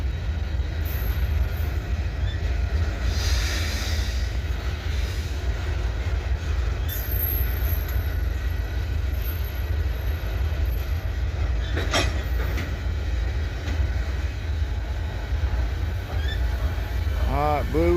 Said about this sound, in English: these are grainers going down there.